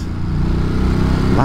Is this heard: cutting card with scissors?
no